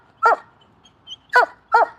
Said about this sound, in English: Apollo barks